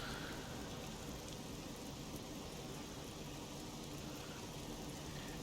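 Soft, steady rain from Train Simulator Classic hissing evenly in the background, a constant wash of drops with no voices or distinct events.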